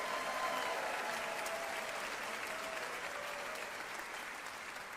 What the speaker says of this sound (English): let's give a big round of applause to Brett and Brian Paddleford.